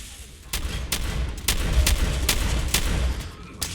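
Rapid bursts of gunfire from the Fallout 4 video game, a series of sharp, evenly spaced shots cracking out roughly every half second over a steady low rumble of battle, loud and close with no talking.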